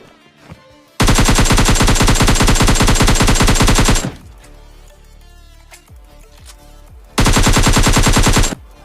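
DP machine gun firing in a video game, two loud sustained bursts of rapid automatic fire, the first about three seconds long and the second shorter, separated by a quieter stretch of scattered clicks.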